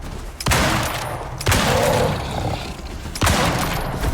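Gunfire at a polar bear in the video game New Frontiers Prometheus: three loud, sharp booming shots spaced about a second or more apart, each followed by a rumbling tail over a steady game background, with no talking.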